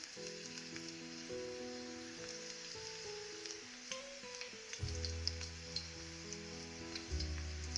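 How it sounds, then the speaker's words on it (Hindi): Green garlic whites frying in hot oil in a kadai give a soft, steady sizzle close by under background music, with faint stirring clicks. "ऑयल गरम होने के बाद आप इसमें वाइट पोर्शन गार्लिक का डालना है।"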